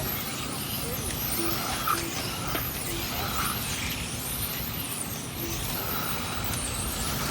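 Modified TC radio-controlled race cars run on a paved track at a national championship, making a continuous high-pitched electric whine and buzzing blur as several cars pass. The sound is steady throughout and moderately loud.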